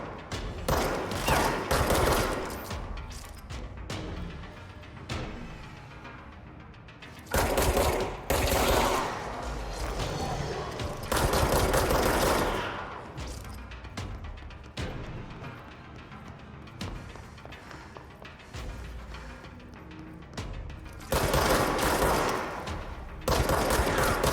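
Loud gunfire from a gun in the video game Control, with dense repeated bursts and volleys that keep going for the whole stretch with only short gaps.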